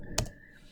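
A single sharp computer keyboard keystroke, close and fairly quiet, like pressing Enter, with faint room hum around it and no talk.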